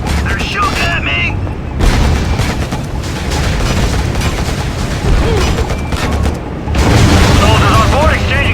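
Gunfire and explosions from the PC strategy game Act of War: Direct Action. Heavy booms and rapid volleys of shots keep up almost without a break, loud and close, with radio-style voices talking over the combat.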